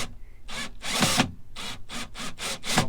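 A powered driver unscrews screws from a wood panel in a campervan, giving a series of short, close whirring bursts in an uneven rhythm with brief pauses between them.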